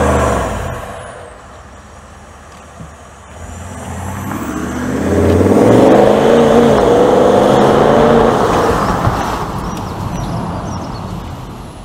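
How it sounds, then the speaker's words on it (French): A Range Rover V8 diesel pulls away from a standstill, its engine note swelling from a low idle into a loud, rising drone that peaks midway and then eases off, heard from outside at moderate distance. "on va se mettre là-bas et tu vas juste accélérer un petit peu"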